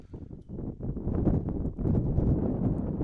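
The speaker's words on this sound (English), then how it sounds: "We've maybe gone from gale force winds to just gusts" Rough, blustery wind buffets the microphone at an outdoor cross country meet, rising and falling in gusts that grow stronger toward the end.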